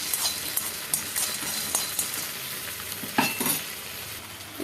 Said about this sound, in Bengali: এদিকে গরম মশলা করছি, একটু বেশি করে ভেজে রাখছি গরম মশলা।